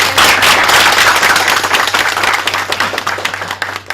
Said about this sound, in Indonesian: Ya, tepuk tangannya mana?